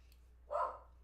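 A single dog bark, short and fairly loud against a quiet background, heard alone with no talking.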